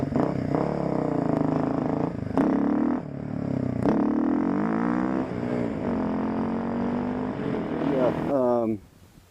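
A Kawasaki KLX250s dual-sport motorcycle with a titanium exhaust and fresh oil runs steadily close by for about eight seconds, its engine note swelling with a few sharp blips of throttle before it cuts out near the end.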